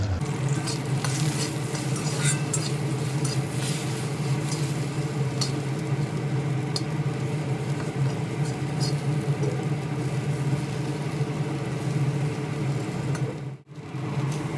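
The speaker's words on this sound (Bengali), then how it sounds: "এই তেলের মধ্যে কেটে রাখা বেগুনের টুকরোগুলো দিয়ে সামান্য লবণ ও হলুদ সহযোগে ভালোভাবে নেড়ে চেড়ে আধা ভাজা করে নেব" Eggplant pieces with a little salt and turmeric are being half-fried in hot oil in a wok, giving a steady, close sizzle with soft stirring scrapes that run unbroken and fairly loud until a brief dip near the end; no one speaks.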